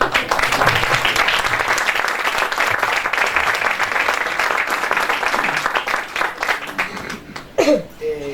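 Dense, steady applause from an audience at a book fair tribute event, continuous clapping that thins out near the end with a brief voice.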